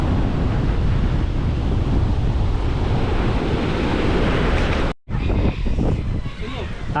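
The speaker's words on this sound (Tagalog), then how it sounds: "Lakas na ng hangin." Strong wind gusts roar across the microphone by the sea, with surf rumbling underneath, a loud and continuous buffeting that cuts out for a moment and then resumes.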